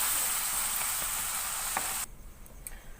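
Spices for a fish curry sizzling in a pan with a splash of water, a bright, steady hiss that suddenly drops to a quieter crackle and a few ticks.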